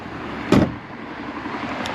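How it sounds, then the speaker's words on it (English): A door on a 1966 Ford Mustang shuts with one solid, fairly loud thump, close by and alone, over a steady background hum. "Door shuts really good."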